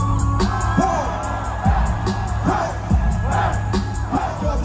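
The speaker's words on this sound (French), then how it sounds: "j'entends des gens crier dans le fond de la salle" A concert crowd at a tour show shouts and whoops from the back of the hall as the lights go down before the opening act, loud, scattered yells rising over a steady crowd roar.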